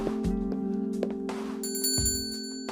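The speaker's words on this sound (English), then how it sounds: "I entered the store, the sound of a bell alerting the staff to my arrival." A shop door bell in the video game Angels With Scaly Wings rings as someone enters the store. A few bright chimes sound close and clear over a steady background music bed.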